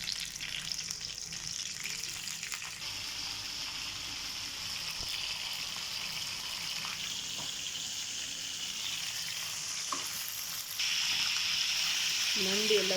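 Crab pieces coated in flour fry in hot oil, giving a steady close sizzle with faint crackles throughout that grows louder near the end as more crab is added.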